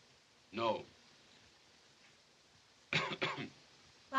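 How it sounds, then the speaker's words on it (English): Two bouts of coughing in a quiet room: a single short cough, then a pause, followed by a harsher double cough. "Why do you cough?"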